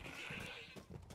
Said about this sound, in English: Move it, goats. I'm busy.